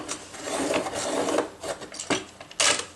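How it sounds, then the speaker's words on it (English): Colored pencil being sharpened for adult coloring, a dry rasping scrape in uneven strokes, fairly close and soft, with a brighter burst of grinding near the end and no talking. "I sharpen this, just a relaxed color and shade"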